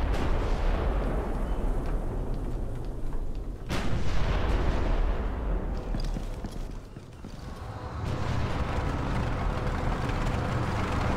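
Artillery fire rumbles through a battle in the Ghost Recon Future Soldier video game: a dense, continuous roar of distant booms, with one sharper blast standing out partway through.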